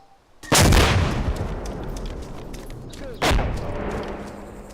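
Two heavy blasts from rockets fired in a military video game, each a sharp loud boom with a long rumbling decay, spaced a few seconds apart.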